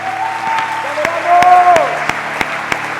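Applause from a gathered crowd at a church worship gathering, steady clapping with a few sharper claps standing out, while a voice sings or speaks a sustained tone over it.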